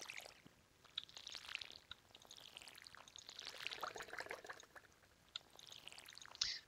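Watering crops in Stardew Valley produces soft, faint pouring splashes from a watering can, repeated in several short gushes with quiet gaps between them.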